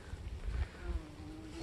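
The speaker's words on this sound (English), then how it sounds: "bumblebees and honeybees." Bumblebees and honeybees buzz around thistle flowers along an overgrown hiking trail, a faint, steady insect drone with a low rumble of wind underneath.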